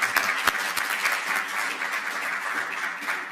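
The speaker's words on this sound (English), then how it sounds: "first, a round of applause for Sam" An audience at a microgrid industry workshop claps for a panelist, a continuous burst of applause from a roomful of people, fairly loud and even throughout, with a few sharper individual claps.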